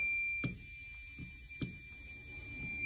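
A fire alarm triggered by a pull station sounds steadily as a high continuous electronic tone, with a few sharp clicks and taps underneath.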